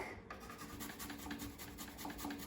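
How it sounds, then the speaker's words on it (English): Garlic cloves are grated in quick, faint rasping scrapes, a light rhythmic scratching heard close up with no talking. "I'm gonna grate in 2 cloves of garlic."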